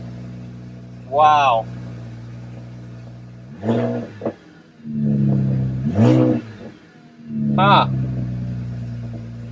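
Salvaged BMW 335is engine revving in repeated rising bursts over a steady idle, several distinct throttle blips close by, with someone speaking briefly between them.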